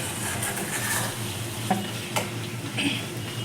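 Potatoes fry in rendered fish oil from catla fish with a close, continuous sizzle, broken by a few light stirring scrapes against the pan.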